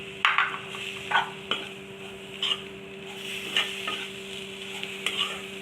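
Masala with finely chopped tomato sizzles softly in a pan over low gas for mutton gravy, with a steady frying hiss and repeated scraping stirs every second or so.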